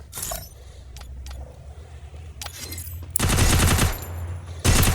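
Automatic gunfire with recoil in a mobile shooting video game, a couple of dense, loud bursts of rapid fire near the end after quieter clicks and ambient hum.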